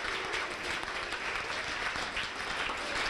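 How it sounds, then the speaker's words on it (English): A sports banquet audience giving a round of applause to the kitchen staff, a thick continuous patter of many hands at moderate distance, fairly soft and steady throughout. "I'd like to give a big round of applause to our kitchen staff for the meal tonight."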